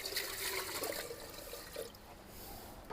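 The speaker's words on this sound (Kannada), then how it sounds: "ಪಾತ್ರಕ್ಕೆ ನೀರು ಹಾಕಬೇಕು." Water is poured into an aluminium pot, a faint splashing trickle that eases off after a few seconds.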